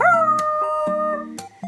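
Werewolves in a video game let out long, wavering howls, several overlapping cries rising and falling in quick succession, loud and close with short yips breaking in.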